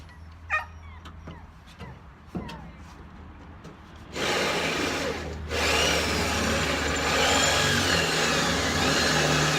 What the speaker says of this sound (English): we're gonna drill out all these rivets